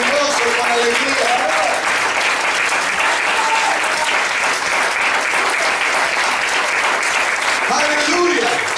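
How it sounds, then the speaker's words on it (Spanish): A church congregation claps hands steadily and joyfully through a Sunday service, a dense, continuous wall of applause with faint voices and music beneath it. "Vamos a dar esas palmas con gozo, con alegría."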